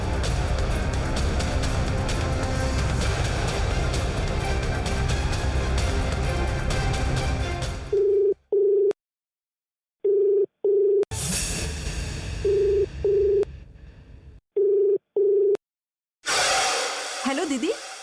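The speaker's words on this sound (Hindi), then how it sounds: "मैंने कहा माया को फोन करो।" A telephone is dialed, with short tone beeps and a ringback tone broken by gaps of silence. Loud music plays before it.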